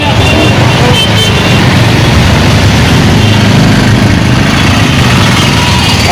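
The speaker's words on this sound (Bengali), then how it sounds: "তো দেখতে পাচ্ছেন আপনারা এখানে প্রচণ্ড জ্যাম" Vehicle engines rumble in a heavy road traffic jam near Rangpur on the way to Kurigram, a loud, constant close drone with faint talk beneath.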